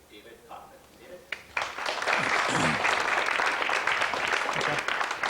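An audience breaks into sustained applause welcoming a speaker at a company talk. The clapping is loud, steady and close, following a brief spoken introduction.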